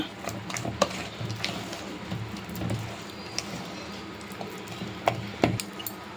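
Mysore bonda batter mixed by hand in a bowl, soft wet squelching and slapping with occasional sharp clinks against the bowl, irregular and close, set against low kitchen background noise.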